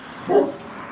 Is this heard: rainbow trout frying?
no